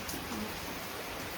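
Steady rain falls in a soft, even hiss with no breaks, fairly quiet and continuous throughout.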